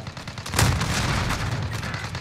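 Gunfire in a Call of Duty quads match: a sharp shot near 0.6 s followed by a steady stream of rapid, loud shots and impacts continuing to the end, with no talk.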